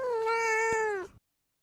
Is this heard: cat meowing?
yes